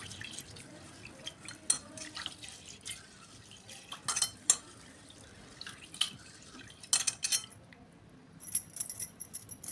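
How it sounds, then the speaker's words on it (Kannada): Roasted ingredients being rinsed by hand in water: quiet, intermittent splashes and small clinks, close and faint, with no other sound. "ಈಗ ಎರಡು ಸಾರಿ ತೊಳ್ಕೊಂಡು ಇದು ನೀರು ಚೆಲ್ಲಿ ಮತ್ತೊಂದು ಸಾರಿ ನಾನು ತೊಳ್ಕೊಂಡ ಬರ್ತೀನಿ ರೀ"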